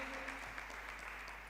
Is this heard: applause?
yes